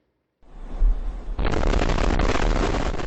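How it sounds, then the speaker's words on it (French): UPS flight 2976, a cargo plane that crashed on takeoff in Kentucky after an engine caught fire, explodes in a sudden roaring blast that swells into a loud, sustained rumbling wall of noise lasting several seconds. "le vacarme de l'explosion"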